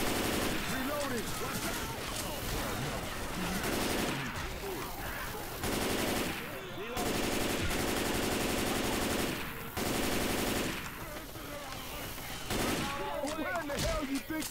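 Sustained machine gun fire in the zombie shooter Left 4 Dead 2: long, dense bursts of rapid shots, loud and close, with brief gaps between volleys and voices talking over parts of it.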